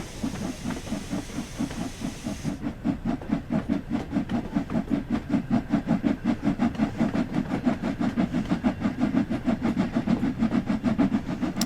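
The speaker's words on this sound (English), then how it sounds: "Yeah, they're not easy to stop, steam trains." A steam locomotive, with air vacuum brakes, chuffs in a fast, steady rhythm, each puff hissing loudly, with a sharp hiss of steam fading early on.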